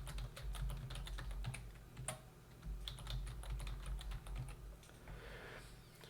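Steady clatter of keystrokes as a password is typed on a computer keyboard, close and continuous, with a low hum underneath.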